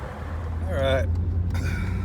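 A Mercedes R129 500SL with a muffler delete, cruising with the top down, gives a steady low engine drone throughout while someone talks over it.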